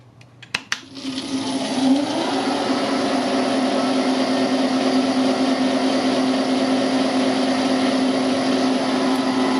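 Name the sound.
Grizzly milling machine running on segmented drive belt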